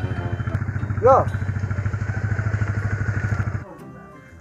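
A motorcycle engine idles with a steady, rapid putter, near and fairly loud, then cuts off abruptly, with a brief voice calling out over it.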